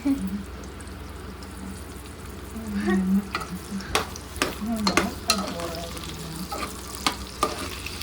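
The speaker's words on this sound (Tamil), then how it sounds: "ஸோ இதை நல்லா வதக்கணும்" Potatoes sauté in a pan for sambar rice, a close sizzle punctuated by repeated sharp spatula scrapes and knocks against the pan, with a brief voice at moments.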